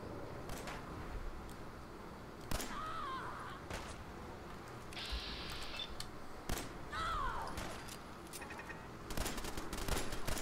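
Repeated gunfire in Fallout 4, with sharp shots cracking out in scattered bursts, some fired rapidly in succession, over a busy game soundscape that holds a few electronic tones.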